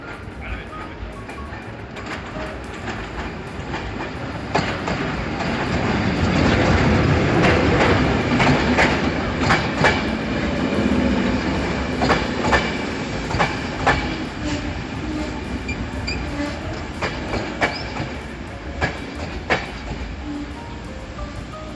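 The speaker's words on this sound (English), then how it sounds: "here comes the train." A train in Bulgaria rolls past on rails near Varna, a loud steady rumble that swells midway, with rhythmic clickety-clack of wheels over joints and faint squeals throughout.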